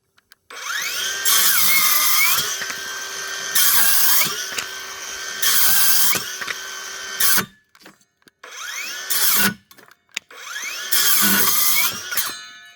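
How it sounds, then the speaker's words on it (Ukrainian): A Dnipro-M power saw cutting 40 mm oak, whining loudly up close in several long bursts that sag in pitch as the blade bites, separated by brief silences. "Ріжемо дуба отакою пилочкою. Показую, як ріже."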